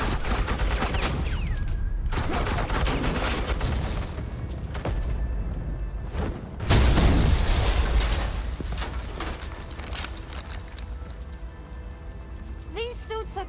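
Suppressing gunfire in Batman: The Enemy Within, dense rapid bursts of shots rattling nearly continuously, loud and close, with brief pauses, a louder swell around the middle and a voice heard under the firing.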